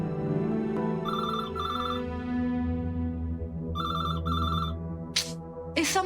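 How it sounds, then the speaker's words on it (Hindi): A telephone rings in two bursts of trilling electronic double rings over a steady background music bed, followed by a couple of brief noisy clicks near the end. "इस समय कौन कॉल कर रहा है"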